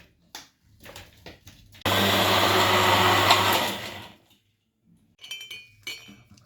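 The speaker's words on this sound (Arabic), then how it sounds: "انا ضربته حلو يا حبايبي في الخلاط وهصبه معاكم" A blender whirs loudly for a couple of seconds blending watermelon with water, sugar and ice, with clinking and rustling before and after it, close by.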